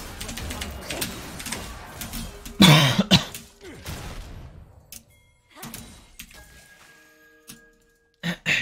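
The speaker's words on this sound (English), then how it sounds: "I'm coughing a lot today." A few close, harsh coughs burst out midway during a League of Legends gaming session, with quieter throat clearing and small knocks around them, then the room falls almost silent.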